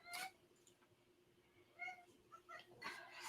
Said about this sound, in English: There's a cat that wants out.